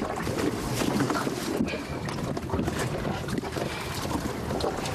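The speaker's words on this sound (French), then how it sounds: "acheter un bateau plus conséquent et l'équiper d'un moteur" A motorized fishing boat out on open water, its engine a continuous drone mixed with rough wind buffeting the microphone throughout.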